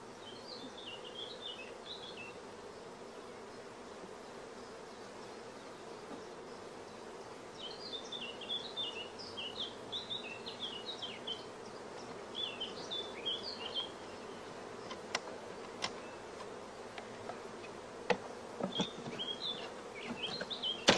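Honeybees buzz steadily while a queen, three frames and the clinging bees are moved from a brood chamber into a nucleus box, a close, continuous drone with occasional sharp knocks and bird calls in the background.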